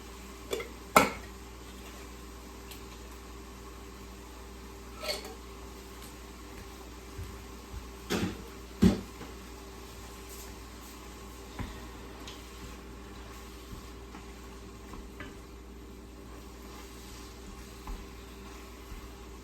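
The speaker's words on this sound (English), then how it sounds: "I'm gonna dump in both cans with the sauce of tomatoes" Canned tomato sauce poured into a pot of wilted spinach, then stirred, with a faint sizzle and a few soft clinks and scrapes of a utensil against the pot in a quiet kitchen; no talking.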